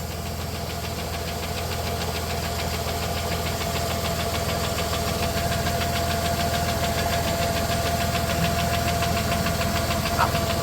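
A 1993 Plymouth Grand Voyager SE, revived after 18 years abandoned and with a slight crank wobble, runs steadily close up with a continuous rhythmic knocking engine drone and faint rattling vibration throughout.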